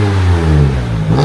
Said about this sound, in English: the Cooper S exhaust had a resonator delete, so that makes it a bit throaty